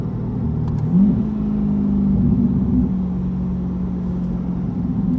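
A Chevrolet C8 Corvette Stingray fitted with a Z06 center exhaust idles with a low, steady exhaust rumble, rising briefly in a short rev before settling back to a smooth drone.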